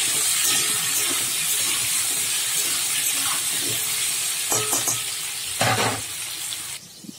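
Potatoes seasoned with salt and turmeric fry and sizzle steadily in a pan for a Bengali patol-chingri dish, with stirring scrapes and a brief louder hiss near the end, close and alone.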